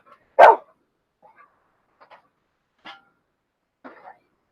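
A dog gives one sharp, loud bark followed by a few softer, short vocal bursts spaced about a second apart, close by in a quiet room.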